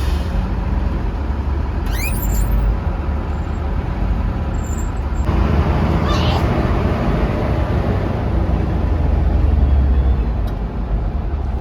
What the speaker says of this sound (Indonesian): Langsung tancap gas, guys, menuju pintu keluar Terminal Purabaya